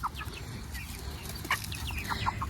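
A backyard homestead rooster clucks in short, quick bursts at close range, with more clucks and faint farmyard sounds from the pasture-raised flock around it.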